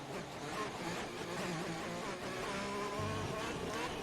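A race car engine drones steadily in an online racing video game league event at the China round. The revving is continuous with shifting pitch, like a car accelerating, and sits under faint background talk.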